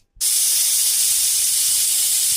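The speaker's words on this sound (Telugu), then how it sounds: "ఇప్పుడు విజిల్ వచ్చింది, కింద దింపుకుందాం" A pressure cooker of purslane dal lets off steam, a sudden loud, sustained hissing rush that starts abruptly after a moment of silence and holds steady.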